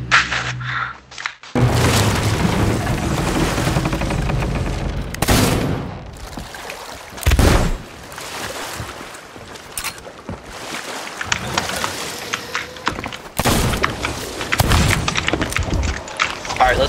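Ship cannons boom repeatedly in Sea of Thieves during a sea battle, heavy blasts and rumbling crashes mixed with wind and water, with players talking over the fighting.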